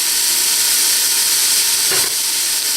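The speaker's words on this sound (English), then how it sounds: "You want to let these onions brown a little bit." Onions brown in a pot with a loud, steady close sizzle and hiss, a brief stirring scrape near the end, no voices.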